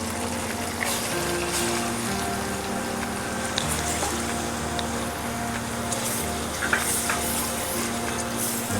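A paste of onion and coconut fries in oil in a pan, giving a continuous crackling sizzle with light stirring, steady and close throughout.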